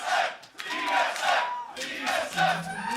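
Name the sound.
esports arena crowd cheering at TSM versus Cloud9 match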